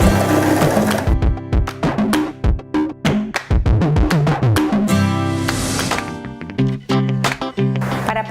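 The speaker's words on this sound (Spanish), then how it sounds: "Baja el prensatelas y continúa cosiendo." Janome 3016 sewing machine stitching a seam in loud, rapid bursts, the needle hammering in quick runs broken by short pauses as the fabric is adjusted.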